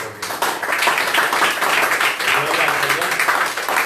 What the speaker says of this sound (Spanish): Pues vamos a darle un fuerte aplauso entonces